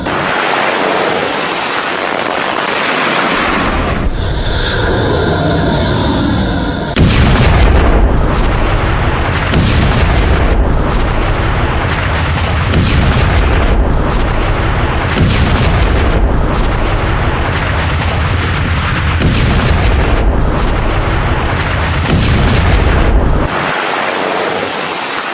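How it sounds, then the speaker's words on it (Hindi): Heavy booms and roaring rushes from explosions and missile launches in the US-Iran war, loud and sustained with repeated blasts every few seconds, distorted by wind on the microphone. "दूसरी तरफ देखिए जरा, ईरान ने भी मिसाइल लॉन्च की है।"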